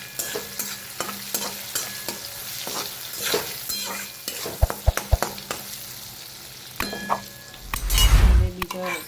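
Vegetables with turmeric, salt and red chili powder are stirred in a hot pan: repeated metal spoon clinks and scrapes ring over a steady sizzle, with a heavier clatter and rush of frying near the end.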